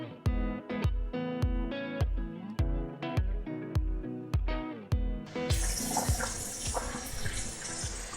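A Nespresso coffee machine pumps water through to rinse out descaler: a rapid run of loud rhythmic pulsing clunks, then a steady rushing, splashing stream of water pouring out.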